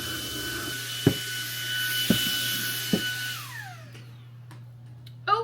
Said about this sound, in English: let me get the vacuum